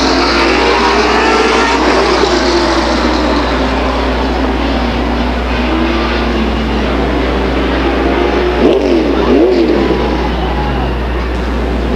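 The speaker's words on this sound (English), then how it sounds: "We got race cars and wrecks all over the place." Race car engines roar at Stockton 99 Speedway during a 2001 main event, a loud, continuous drone of several cars with no break in the noise.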